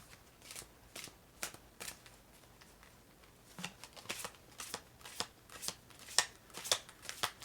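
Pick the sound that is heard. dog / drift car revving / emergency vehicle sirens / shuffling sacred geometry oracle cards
shuffling sacred geometry oracle cards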